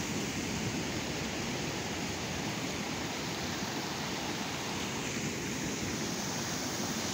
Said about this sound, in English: Water just pouring out of the ground.